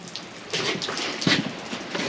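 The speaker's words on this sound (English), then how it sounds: "obviously it's raining" Steady rain falling outdoors at a concrete railing install site, a dense close patter with a few louder drops and splashes, no talk.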